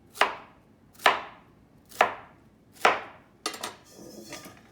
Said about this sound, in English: I cut it in half, and look, I'm doing about half-inch slices